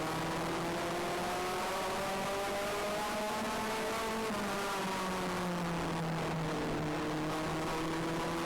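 Race cars thunder off at the green flag to start a 50-lap main event at Sunset, engines rising and falling in pitch as the field accelerates together, a dense layered roar with no talking.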